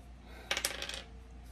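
Dice rattle and clatter onto a hard surface in a quick burst of sharp clicks and bounces that settles within half a second, close and fairly quiet, with no talking.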